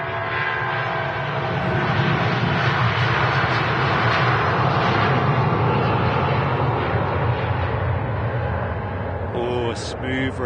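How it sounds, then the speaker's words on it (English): A Jet2 Boeing 757 takes off at Manchester Airport bound for Fuerteventura, a loud, sustained jet roar that swells and holds through the climb, with a few sharp clicks near the end. "a smooth rotation there. Jet2 757 Alpha India. Heading off to Fuerteventura in the Canary Islands."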